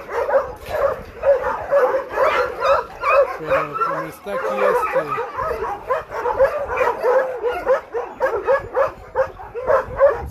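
Several dogs at an animal shelter bark and whimper in a busy, continuous chorus of yips, with a person speaking Spanish over the noise.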